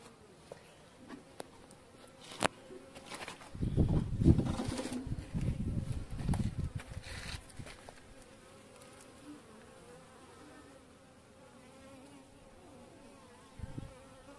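Honey bees buzz around a hive abandoned by a weak colony, probably after attack by wasps, a close, swelling drone that peaks midway and then settles into a faint, steady hum.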